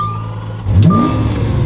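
A Lamborghini Aventador SV engine starts with a sudden loud crank and catch, then settles into a deep, throaty idle that stays loud and close, preceded by a faint warning tone inside the car.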